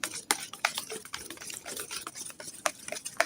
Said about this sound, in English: I'm just going to beat that up.